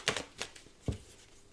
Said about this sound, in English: There's a whole deck here. I swear I've been shuffling.